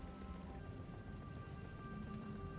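Steady rain pours down in the video game Borderlands 4, a dense, continuous hiss of drops on surfaces that holds at an even level throughout, with a faint tonal hum beneath.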